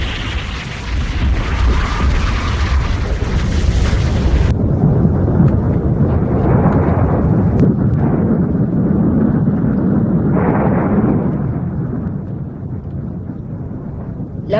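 A deep, roaring blast of an explosion tears through underground mine galleries, a loud sustained rumble with a bright crackling onset that dims midway and rolls on as a heavy, windy boom.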